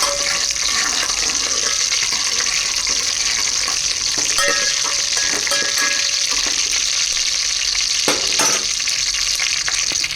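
Bajji fritters frying in hot oil, giving a loud continuous sizzle with faint scrapes from stirring and an occasional clink.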